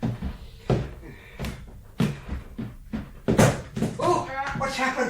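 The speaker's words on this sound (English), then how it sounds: "I knocked something down. I caught my elbow." An object knocked over by an elbow in an old house at night, a sharp clatter and bang rising among other knocks and bumps, with people talking around it.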